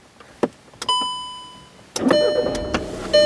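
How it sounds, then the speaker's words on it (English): A 2011 Volkswagen Jetta TDI with a 2-liter four-cylinder turbo diesel is push-button started: a few chimes and clicks first, then the engine catches at about two seconds and settles into a steady close idle. "push the engine start button"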